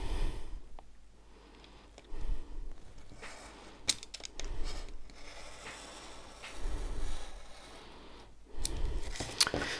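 Paper is cut along a ruler for an Easter craft card, with soft scraping and rubbing strokes in separate bursts, close and quiet in a still room.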